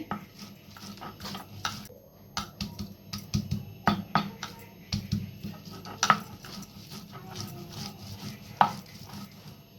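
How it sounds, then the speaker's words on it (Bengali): Chopped garlic and onion crushed on a village grinding stone, heard as close, uneven knocks and gritty scrapes repeating in bursts with no talking. "রসুন আর পেঁয়াজটা কিন্তু বাটা হয়ে গিয়েছে"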